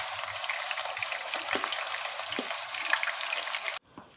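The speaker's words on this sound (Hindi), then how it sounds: "अब हमने करना क्या है, एक पैन के अंदर इसको फ्राई कर लेना है सारे चिकन को।" Chicken pieces frying in a pan over a high flame for an Indo-Chinese dragon chicken starter, a steady close, loud sizzle with small pops throughout that cuts off abruptly near the end.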